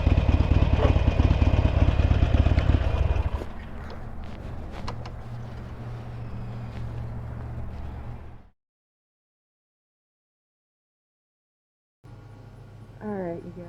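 A Harley-Davidson Sportster Iron 883 runs loud and close at first, then settles into a quieter steady engine rumble before cutting to silence; after a pause a low hum returns with a brief louder burst near the end.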